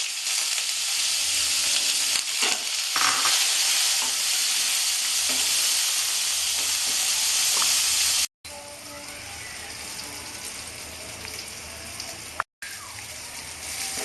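Steady, loud hiss of eggplant frying in hot oil with black cumin seeds and turmeric, sizzling continuously for the whole stretch, with scraping stir sounds early on and two brief dropouts.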